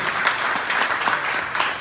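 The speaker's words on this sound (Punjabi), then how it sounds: "ਜੋਰਦਾਰ ਤਾੜੀਆਂ ਇਕਰਾਸ ਸਿੰਘ ਗੁੱਗੀ ਲਈ ਪਲੀਜ਼" A crowd at an academy awards ceremony claps for an honoree, a full, steady patter of many hands with slight swells, fairly close and uninterrupted by speech.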